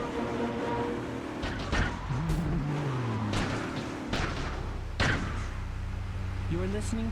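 A car crashes repeatedly in a video game played on a handheld, several sharp thuds and bangs amid engine drone with rising and falling revs, at moderate loudness.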